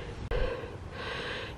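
Close, heavy breathing while climbing steep hills in Ubud, Bali, with a sharp gasping intake near the start, followed by steady, breathy exhales and panting under outdoor background noise.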